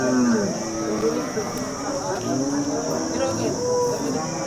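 Cows low at a busy cattle market in Maharashtra, a drawn-out moo with harmonic tone rising above the steady din of the crowd, with people talking nearby throughout.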